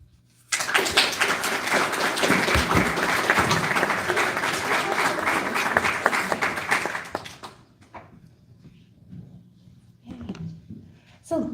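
A school audience applauds after a student capstone presentation at a humanities academy, with dense sustained clapping for about seven seconds that then fades out, followed by a few isolated claps and some quiet voices.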